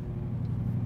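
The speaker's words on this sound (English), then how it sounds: "I love the exhaust system." A 1973 Chevrolet Camaro exhaust gives a steady, deep low rumble, heard briefly and continuously at moderate volume.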